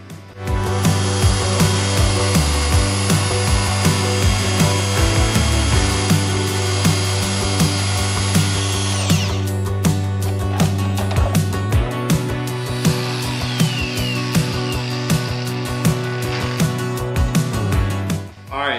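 Power saw cutting metal pieces for a hole-saw differential locker on a Peerless 2300, a loud sustained whine with steady rhythmic strokes, a high shriek for the first half then a lower grinding cut with repeated bursts, no talk.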